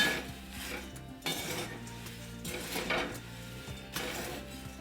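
Puffed jowar chivda is tossed with powdered sugar and salt in a bowl, making a quiet, dry rustling with periodic scrapes and light clinks of a spoon in slow, repeated strokes.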